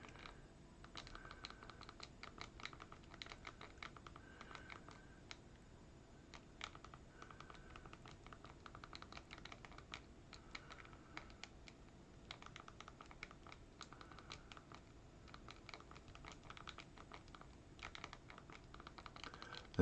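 Keys clatter in a steady, quick run of close, quiet taps as a web address is typed on a computer keyboard, with no voices over it.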